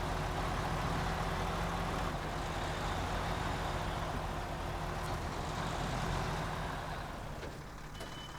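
A truck being parked in the SnowRunner driving game gives a steady, loud engine drone with a faint reversing beep, fading slightly near the end, with no talking.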